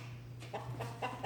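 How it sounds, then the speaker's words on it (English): Chickens cluck in short bursts close by, over a steady low hum in the background. "Noisy chickens."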